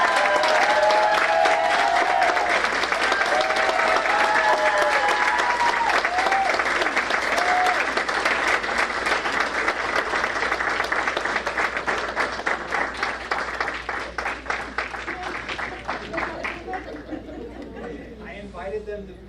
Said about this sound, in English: Let's have a warm Matador applause for our Seguin ISD Director of Child Nutrition